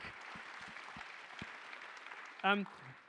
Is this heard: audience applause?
yes